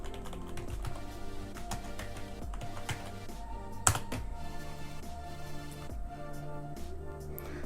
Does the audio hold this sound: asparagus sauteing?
no